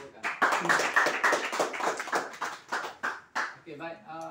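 Clapping from a meeting audience rises and thins into scattered, separate claps, while a voice speaks over the end.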